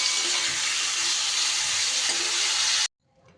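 Radish fries in a pan over low heat as it is stirred, making a steady, close hissing sizzle that stops abruptly near the end.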